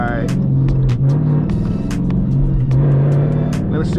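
Dodge Challenger engine droning in a steady low rumble from inside the car, pitch dipping with a downshift, with someone talking over it.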